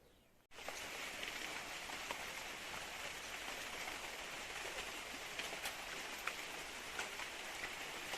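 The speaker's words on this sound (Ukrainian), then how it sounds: "От хочеться дощ слухати завжди" Steady rain falling outdoors in a garden with hydrangea, elderberry and dogwood shrubs ahead of an approaching thunderstorm, a dense continuous hiss of drops on surfaces that swells after a brief quieter start and stays even, with scattered louder drop taps.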